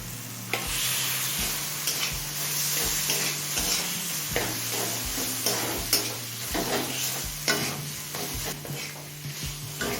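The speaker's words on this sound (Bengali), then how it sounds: "চিকেনটা দিয়ে সমস্ত মশলার সাথে মিশিয়ে নিয়েছি" Chicken pieces stirred into a pan of sizzling ginger-garlic spice masala for a Bengali loti chicken dish, a steady close fry broken by regular scraping strokes of the spoon.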